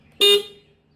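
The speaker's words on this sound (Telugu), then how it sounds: "ఇది నొక్కితే హార్న్ వస్తుంది." A single short, bright beep from the horn of a Bajaj Chetak 3501 electric scooter, close and loud, lasting about a fifth of a second before fading.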